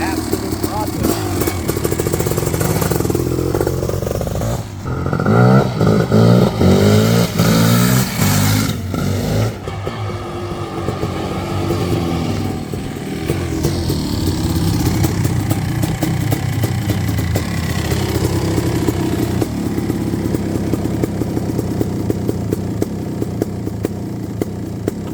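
Big-bore 1995 Kawasaki KX500 two-stroke motocross engine, restored, revving hard in a loud, close sustained drone with rising and falling blips, while someone talks over it much of the time.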